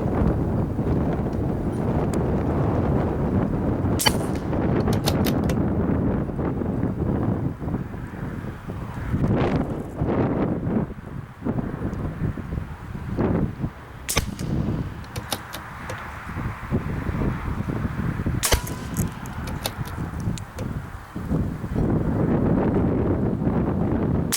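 Gusty wind buffets an outdoor rifle range on a windy day, a loud, continuous rumbling roar across the microphone that swells and eases, broken by a few sharp knocks and clicks.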